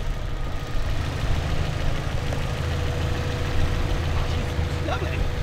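A Mazda MX-5 engine idles roughly with an uneven low rumble close by, while people talk over it.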